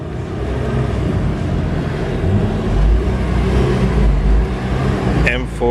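A BMW M4 GTS engine rumbles with a deep, steady note that swells slightly in the middle, fairly close, with a brief sharper sound near the end.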